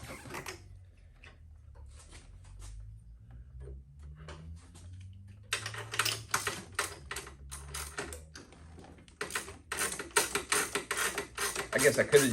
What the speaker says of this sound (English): Let's pull the plug out of it.